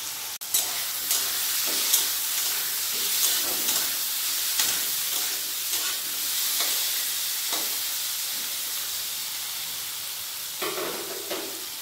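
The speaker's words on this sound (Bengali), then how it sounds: "গ্যাসটা বাড়িয়ে রেখেছি, লাউটা একটু ভেজে নেব।" Bottle gourd frying with turmeric and salt in a pan over high gas, a loud close steady sizzle with frequent stirring scrapes and clicks, no talk.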